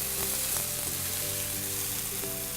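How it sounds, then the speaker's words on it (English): Meat sears skin side down in a hot pan, giving a short, moderate, even sizzle under soft background music. "just going to place that skin side down in the pan until we get a nice golden brown crust"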